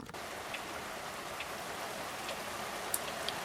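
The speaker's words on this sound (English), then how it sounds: "that is proper rain" Heavy rain falls steadily outside on a brewing day, a dense, even hiss of drops with a few sharper ticks and patters, alone and continuous throughout.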